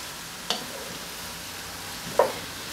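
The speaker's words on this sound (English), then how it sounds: "we're just going to stir this until the veggies start to cook and soften up" Vegetables for vegetarian red beans and rice sizzle steadily in a pan, with two brief stirring scrapes breaking through the constant frying hiss; close and moderately loud, no talking.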